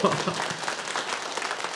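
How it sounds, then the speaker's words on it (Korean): A church congregation claps for a newly married couple during a service. The applause is steady and dense, with a faint voice underneath. "다시 한번 박수"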